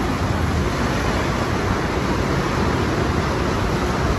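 Heavy rain pours down in a dense, continuous hiss and roar that stays loud and even throughout, with no voices.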